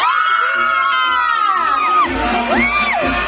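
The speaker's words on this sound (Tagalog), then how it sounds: "Kaya naman, sumigaw ang mga fans ng Wilcat!" Fans scream and cheer at a stage event for the MMFF 2025 film cast, high-pitched shrieks and whoops rising and falling in loud, overlapping waves close by.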